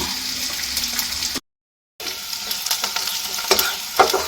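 Onion frying to a reddish brown in a pan, a steady close sizzle with stirring scrapes; the sound cuts out briefly midway, then returns just as strong.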